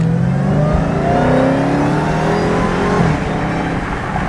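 A car fitted with a cold air intake accelerates hard as it pulls out, its engine note loud and close with rising harmonic sweeps and a steady roar throughout.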